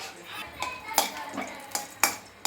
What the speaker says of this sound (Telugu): ఇందులో దాల్చిన చెక్క, లవంగ అండ్ ఇలాచీ వేసి కొంచెం ఫ్రై చేసుకోవాలండి.